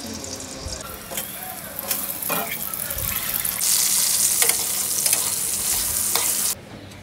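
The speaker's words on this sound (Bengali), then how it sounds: "এখন আলুগুলি হালকাভাবে একটু ভেজে নিব।" Potatoes fry in hot oil in a wok on a stove, a steady loud sizzle with occasional scraping stir strokes, swelling louder midway before cutting off near the end.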